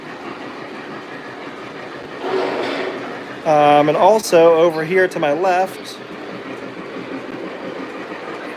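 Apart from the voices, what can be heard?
MTH model tank train running on track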